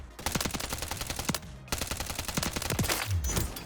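Bursts of Striker SMG fire in Warzone, a string of rapid automatic shots with brief pauses between volleys, fairly loud and close with game ambience underneath.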